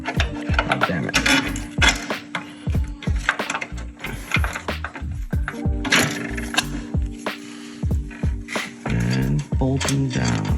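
Bolts are tightened on Corvette C6 angle kit brackets against the frame rail, with repeated ratchet clicks, metallic clanks and scraping close by in a garage.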